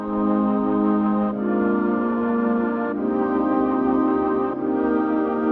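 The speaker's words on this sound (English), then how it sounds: "And these choir sounds layered together from the mellotron." Layered mellotron choir voices hold sustained chords, changing smoothly every second or so in a full, steady wash of sound.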